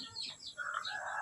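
A chicken gives a short, faint squawking call, brief and a little distant.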